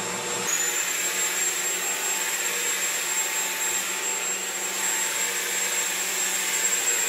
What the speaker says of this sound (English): it looks like this Shark Vertex vacuum is really working great now